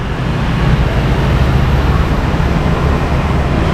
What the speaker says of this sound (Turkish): Ve şu trafiği bakın.